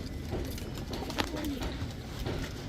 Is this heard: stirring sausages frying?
no